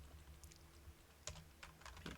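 Code is being typed on a computer keyboard in quick, irregular clicks, quiet and close over a low steady hum, with no voices.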